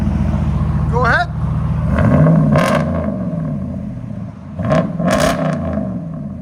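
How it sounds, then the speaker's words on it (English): A 2019-or-later RAM 1500 with a 5.7L V8 idles through a true dual exhaust, giving a low, steady rumble close by. People talk over it intermittently. "Idle on true duals."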